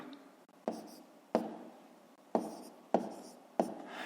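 Numbers written by hand for a multiplication exercise come through as five quiet, evenly spaced pen or chalk taps and strokes on a hushed background, with no speech.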